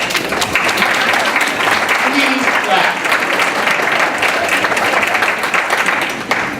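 Sustained applause from a crowd at an alumni awards brunch, a dense even clapping that fills the room throughout with no break.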